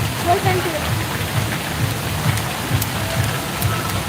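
Rain pours down outdoors as a constant dense hiss of drops on surfaces, loud and unbroken, with faint voices underneath.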